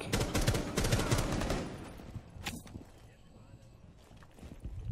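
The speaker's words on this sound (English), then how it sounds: "That was a lot of bullets for one dude." Dense bursts of rapid automatic gunfire in the video game Rainbow Six Siege ring out loud and close at first, then thin out into scattered shots and scuffling under quieter background noise.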